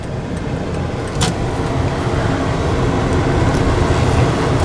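A car driving along the roads of Tan-Tar-A Resort in Osage Beach, Missouri, heard from inside as a loud, steady rumble of engine and road noise, with one brief sharper click and no voices.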